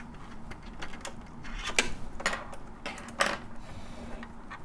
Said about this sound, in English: I'm going to unscrew the screw right on the side of the presser foot right here. Use my screwdriver to do that.